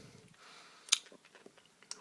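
Close, quiet chewing of a Lemonhead hard candy, with a few sharp crunches and clicks scattered over a soft mouth-noise background, one crunch standing out loudly midway.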